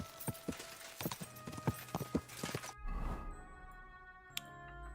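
Horse in Kingdom Come: Deliverance II, rapid rhythmic hoofbeats thud along for a few seconds, then stop and give way to softer rustling and a brief sharp sound near the end.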